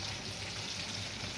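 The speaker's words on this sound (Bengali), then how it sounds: "তেল গরম হয়ে গেছে, এবার আমি দিয়ে দিব সজনাকে তেলে ভেজে নেব।" Drumstick pieces sizzle and crackle steadily in hot oil, a dense, even frying hiss close up with no voices.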